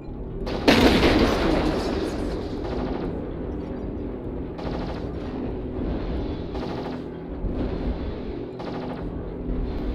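Rapid bursts of energy-weapon fire from a Viper mech in the game MechWarrior Online: short, repeated laser volleys with a loud opening blast, then several brief pulses over a steady mechanical hum of the machine.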